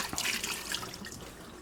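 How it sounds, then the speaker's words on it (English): Water splashes and trickles into glass canning jars of tomatoes, a short, fairly quiet burst of pouring with bubbly splashing that fades slightly toward the end. "I'm not filling the jars all the way to the top with water"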